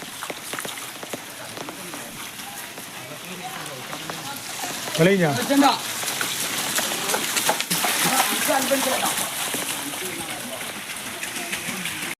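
Rain falls and water flows along NH 66 at Randathani, Malappuram, Kerala: a steady, close hiss of rain with splashing runoff continues throughout, and a voice speaks briefly.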